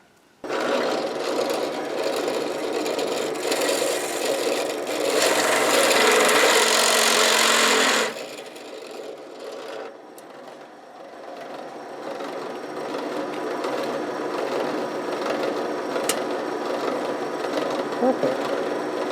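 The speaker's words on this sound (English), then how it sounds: "So I'm going to go ahead and drill these out" A drill bores out rivets on a vintage RCA WV-77E VoltOhmyst vacuum tube voltmeter, a steady grinding whir running for several seconds before easing into quieter mechanical work at a bench.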